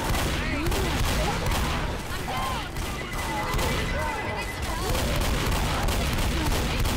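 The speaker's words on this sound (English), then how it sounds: "I'm gonna throw a pipe bomb since I can't fucking move." Pipe bomb explosion and gunfire chaos in the video game Left 4 Dead, a loud continuous barrage of blasts and shots with shouting voices mixed in throughout.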